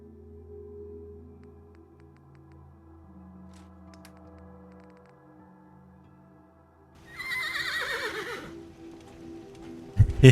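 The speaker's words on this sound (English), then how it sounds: "I didn't know that the armor made horse noise." Horse neigh triggered by power armor in the video game Fallout 4: a quiet ambient stretch with low hums, then a loud close whinny with falling pitch, followed by a few hoof clops and a sharp thump at the end.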